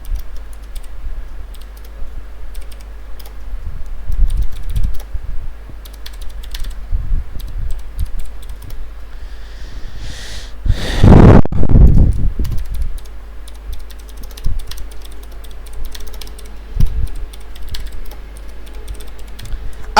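Someone types text on a computer keyboard in scattered soft clicks over a steady low hum, with a louder burst of bumping noise in the middle.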